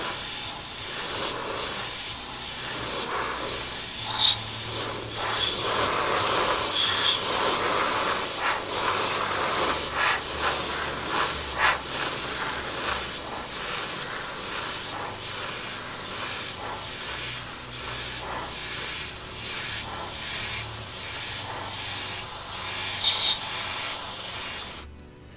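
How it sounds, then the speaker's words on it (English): An aerosol can sprays paint onto parts of a Tamiya Volvo FH12 1/14 scale RC truck kit, a continuous close hiss in long bursts with brief pauses and slight surges as the can sweeps back and forth. "if you've got raised areas like this and you're spraying, you've got to move one in relation to the other"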